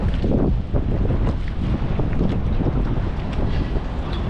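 A small wooden rowing boat glides along a Venice canal amid heavy, roaring wind buffeting the microphone, with water washing and sloshing underneath throughout and no speech heard.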